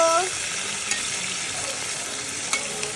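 Chicken skin curry being stirred in a pan, with a steady broadband sizzle of frying and occasional scraping clicks of the spoon against the pan, close and continuous throughout.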